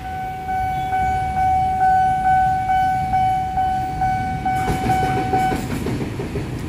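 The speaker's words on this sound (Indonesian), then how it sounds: "Lokomotif dinas kembali." A service locomotive rumbles past close by Pondok Jati station in Indonesia, its wheels clattering over rail joints with a steady tone and a burst of rattling near the end.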